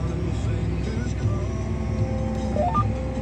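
Tractor engine droning steadily as it drives along a potato planting row pulling a planter, a constant close mechanical hum with a faint rising whine near the end.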